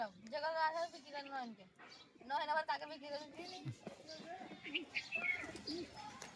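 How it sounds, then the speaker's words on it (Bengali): A pigeon coos softly in the background while people talk almost continuously over it, with a few faint chirps mixed in. "পায়রাটা এখনো নামছে না"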